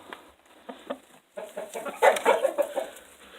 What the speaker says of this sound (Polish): Tutaj ta kura siedzi mi już od rana.